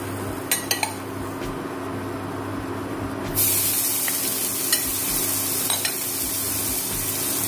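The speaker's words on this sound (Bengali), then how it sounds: "আর এটাকে এখন আমি হালকা করে ভেজে নেব।" Grated bottle gourd hitting melted ghee in a pan, a few utensil clicks followed by a sudden, louder, steady sizzle as it fries, with occasional spoon taps and no speech.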